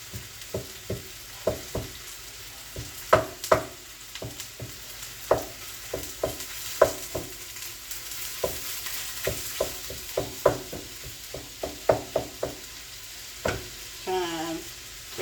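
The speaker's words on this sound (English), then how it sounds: "Trying to break up the meat so I can spread it out more." Ground meat frying in a pan, sizzling steadily while a utensil breaks it up and spreads it with sharp, regular scrapes and taps, close and clear, with no talk.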